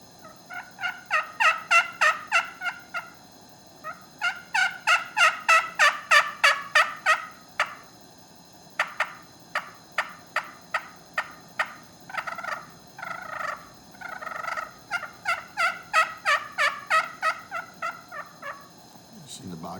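A slate turkey call built from a box turtle shell scratches out rapid gobbling and clucking bursts in repeated runs, loud and close, with no talking.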